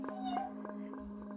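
A character in a children's cartoon about Cartoon Cat imitates a cat, giving a short series of soft meows over a steady musical tone. The sound is faint, with no other talk.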